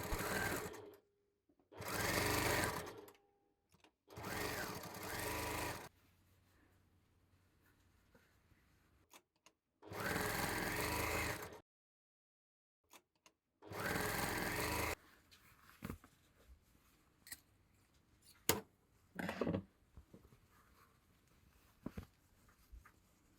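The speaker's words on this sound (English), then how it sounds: "First, I sew the patchwork pieces together to form the purse shape." A sewing machine joins patchwork fabric pieces into a purse in several short, loud bursts of steady whirring with gaps between them, followed by quieter handling and rustling of fabric close by.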